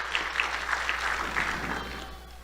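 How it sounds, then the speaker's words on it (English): Applause from an audience at a live Cherokee Ambassadors pageant event, a steady wash of clapping with a few sharper individual claps standing out, fading slightly toward the end. "We have, yes, a big round of applause for everyone."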